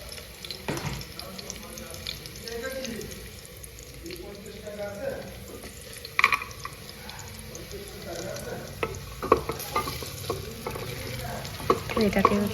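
Onions fry in a pan with cashews and raisins while being stirred, a soft steady sizzle broken by scraping and clinking of the spoon against the pan, a few louder knocks, and some quiet background talk.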